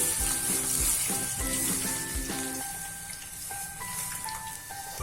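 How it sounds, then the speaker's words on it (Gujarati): Full-fat milk is poured into hot ghee in a pan while making rajgira kheer, raising a loud, steady sizzle and hiss that eases slightly partway through, with no talking. "આપણું ઘી ગરમ થઈ ગયું છે. હવે તેમાં આપણે દૂધ ઉમેરીશું."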